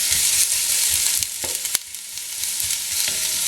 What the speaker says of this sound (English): I used 3 small onions which I have finely sliced. Just add those to the oil.